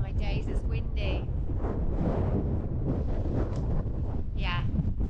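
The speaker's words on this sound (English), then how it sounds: "Oh my days, it's windy." Strong wind buffets the microphone on a Lake District hilltop along the Cumbria Way, a constant loud roar with gusty rumbles, while a person speaks over it.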